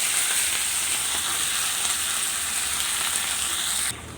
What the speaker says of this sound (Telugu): ఆకుకూరకి వాటర్ ఉంటాయి కాబట్టి మనకు కొద్దిగా బాగా సౌండ్ స్ప్రింక్లింగ్ లా వస్తున్నది